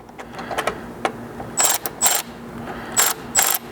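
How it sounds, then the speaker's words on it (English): A long 10mm socket on a ratchet tightens a roof rack mounting nut on a Ford Maverick, giving four short, sharp clicking bursts in two pairs, close and fairly loud, over faint background noise. "I've just got a long 10mm socket to reach up in there, and then my 4mm hex out here again"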